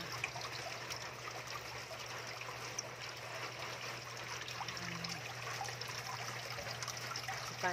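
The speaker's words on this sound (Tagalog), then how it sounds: "medyo dadagdagan kong tubig" Water trickling into a crayfish tank, a faint steady stream of pouring and dribbling over a low background hum.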